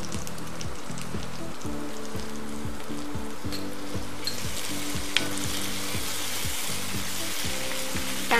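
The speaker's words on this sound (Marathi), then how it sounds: "टोमॅटो पण चांगला आपण परतून घेऊया." Chopped onion and tomato sauté in a pan with a dense, continuous sizzle and occasional stirring scrapes, close and steady with no talk.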